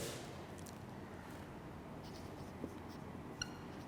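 Chalk or marker scratching on a board during a statistics lecture on probability, a steady faint scraping texture with a couple of small taps, no talking over it.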